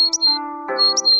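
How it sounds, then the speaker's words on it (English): A bird sound effect for a snow-white pigeon: short, bright chirping calls repeated twice, close and clear over a sustained musical tone, with no speech. "she would talk to a snow-white pigeon"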